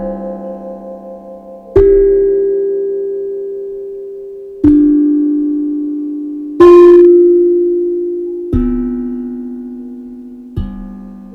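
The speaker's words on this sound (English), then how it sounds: "Some people call them a rain drum. When it's raining out, it can play sounds and notes, but it also comes with a little wand." A rain drum (steel tongue drum) struck with a small wand, five or six clear resonant notes each ringing out and slowly decaying, played slowly and alone with no talk.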